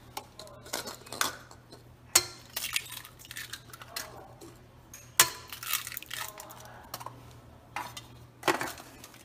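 Zucchini chocolate bread batter gets a quick stir in a bowl, with irregular clinks and scrapes of a utensil against the bowl sounding close and moderately quiet over a faint steady hum.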